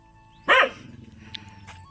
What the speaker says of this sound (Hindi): देखो ये बड़ा कुत्ता छोटे कुत्तों को डरा रहा है